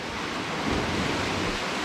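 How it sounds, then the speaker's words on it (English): Big ocean waves break on a Scottish shore, a brief, dense roar of surf and spray filling the whole clip, loud and close, with no talk. "that's the biggest two waves we've seen"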